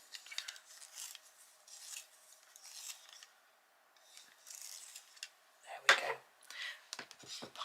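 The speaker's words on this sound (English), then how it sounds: "Another one that needs a good sharpen." Pine green colored pencil being sharpened close by, in several short bursts of dry scraping and grinding with quiet pauses between them.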